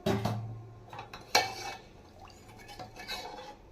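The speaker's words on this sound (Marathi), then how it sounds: "आणि हे छान असं आपण मिक्स करून घेऊया" A spoon stirs and mixes ingredients in a cooking pot, giving a few sharp metallic clinks and scrapes followed by quieter, uneven swishing and scraping strokes, heard up close without speech.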